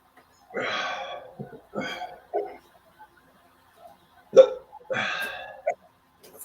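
A man's hiccups sound in sharp, close bursts, several spaced across a few seconds, some with a voiced, croaking quality, in an otherwise quiet room.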